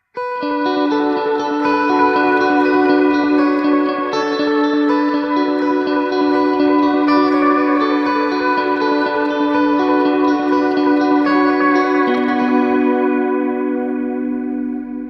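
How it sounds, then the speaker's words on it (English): Electric guitar through a Tone City pedal with modulation plus reverb, ringing chords and melodic notes washed in spacious ambience, loud and sustained throughout with a lingering tail. "So let's bring in the reverb as well."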